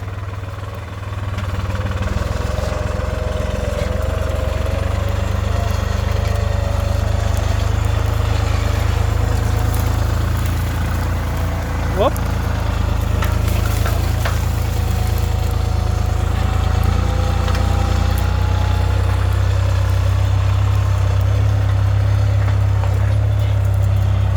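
A New Holland T480 S tractor engine runs steadily while working a sloped field, a low, continuous diesel drone that stays close and loud throughout.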